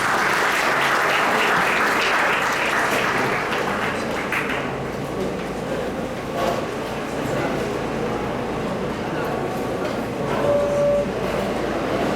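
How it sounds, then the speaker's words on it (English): Applause from a gathered crowd at a conference on the urban redevelopment of Tacloban City rises at the start and then thins into scattered clapping with background murmur. "A round of applause, please."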